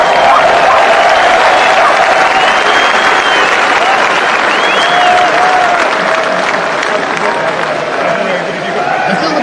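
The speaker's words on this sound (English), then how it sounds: "Give yourselves a round of applause" Big outdoor crowd at a London street rally roaring with steady applause and cheering, a dense continuous wash of clapping and whistles sustained loudly throughout, with voices mixed into the din.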